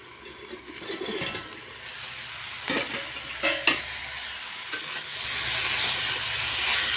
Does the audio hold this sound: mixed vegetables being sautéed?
yes